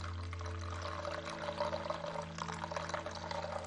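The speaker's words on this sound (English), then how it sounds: "You want to pour it in your coffee grounds" Hot water pours steadily into coffee grounds, a soft, faint trickling stream over a low background hum.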